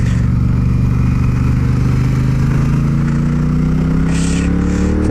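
A 2017 Triumph Bonneville Bobber motorcycle cruises on a highway, its engine droning loud and steady with a rising pitch as it accelerates, wind rush throughout.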